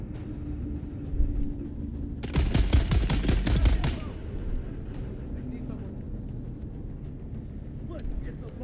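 A rifle in the Dune Awakening video game lets off a rapid burst of about a dozen sharp shots in quick succession, standing out loudly over a low rumbling background.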